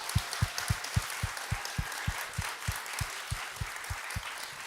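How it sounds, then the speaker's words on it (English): A lecture audience applauds a speaker with a dense wash of clapping and an even, rhythmic beat of heavier claps running through it, moderately loud and without any speech. "please give her a warm applause, Marieke Dewitte."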